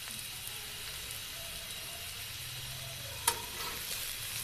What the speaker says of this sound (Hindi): अब इसको मैंने दूसरी साइड से पकने के लिए रख दिया।